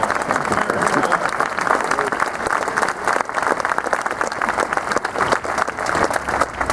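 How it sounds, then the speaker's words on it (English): A crowd at an inauguration speech gives a round of applause for farmers, a loud, dense clapping that swells and holds for several seconds with a few voices mixed in. "Give them a round of applause."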